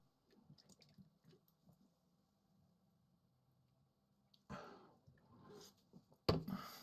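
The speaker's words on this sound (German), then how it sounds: "Jetzt kommt man zurück nach 2 Stunden und gießt sich das" Monster Energy drink poured into a glass, a few soft drips and squishy liquid sounds at first, then a louder splashing pour in two short bursts near the end.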